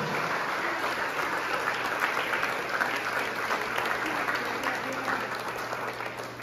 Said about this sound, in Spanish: Podemos aplaudir a esa bendición.